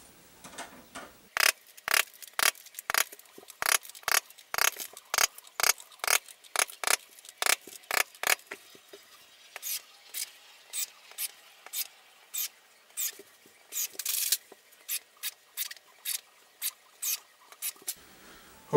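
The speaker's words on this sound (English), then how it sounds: "I'll go through and pound out the rest of these holes and finish in the rest of the screws" A drill drives screws into an MDF built-in to attach a hinge, in long runs of rapid, evenly spaced clicking bursts, close and fairly sharp, with a short quiet gap midway.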